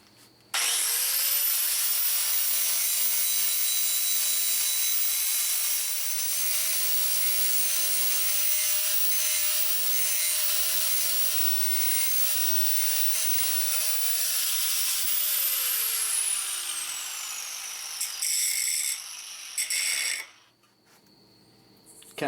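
Power sander or grinder working bare metal on a vehicle trailing arm, shining it up for welding: a loud, steady whine held for about fifteen seconds, then winding down, followed by a few brief scrapes and a quiet end.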